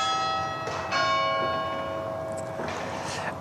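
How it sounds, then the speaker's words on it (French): Church bells of the medieval Douai belfry in northern France strike in slow succession, bright ringing tones with long shimmering decay, fairly loud and alone. "ses journées sont rythmées par les cloches du beffroi"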